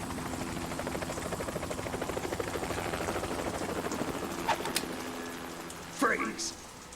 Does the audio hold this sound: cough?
no